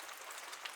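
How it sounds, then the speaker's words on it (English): Steady rain falls in a continuous, even hiss of drops striking surfaces close by, with no voices and no pauses. "It is obviously raining"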